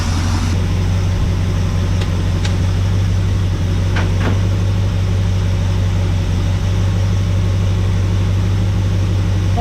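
A 1974 Ford Dentside truck's 390 FE big block V8, running rough, idles steadily with a deep, constant low rumble and slight irregular pulsing throughout, close and loud with no talking.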